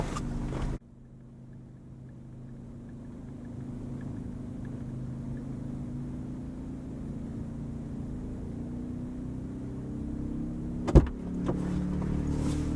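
A Ryobi 2300 inverter generator with remote electric start fires up after a click and settles into a steady, smooth idle hum, with a sharp transient near the end.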